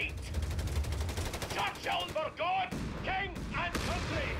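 Tank cannon and gunfire in a Company of Heroes 3 battle from the Italian campaign: repeated loud shots and bursts over a dense, continuous battle din.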